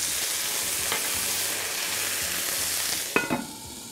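Pork dumplings pan-frying in oil hiss with a steady, close sizzle, then a sharp crackling burst follows as water hits the hot pan and turns to steam.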